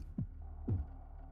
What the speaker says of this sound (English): Just listen to that heartbeat.